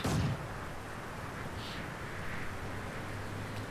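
Mortar fire in the video game Company of Heroes 2, a short heavy burst at the start followed by a dull, rumbling battlefield wash that persists for several seconds.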